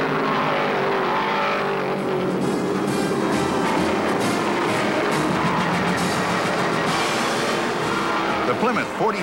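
Stock cars race out of the fourth turn at Martinsville in the 1972 Virginia 500, a dense continuous engine roar with passing swells, under a race commentator's voice.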